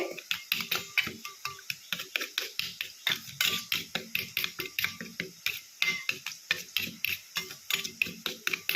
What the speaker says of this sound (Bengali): পেস্টটা তৈরি হয়ে গেল ভালো করে ফেটিয়ে নিতে হবে টক দইটা